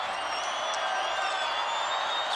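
A stadium crowd roars in a steady, broad wash of noise during an MLS versus USL soccer match between Real Salt Lake and Phoenix FC, loud and continuous with faint whistles and shouts on top.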